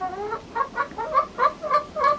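Araucana chickens cluck in a henhouse, with about seven short, clear clucks in a steady rhythm. The birds sound close and distinct against a quiet background.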